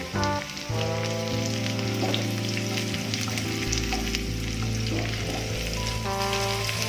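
Cashews and sliced onions frying in hot oil for a sweet fruit biryani, a steady, close crackling sizzle throughout, with music playing over it.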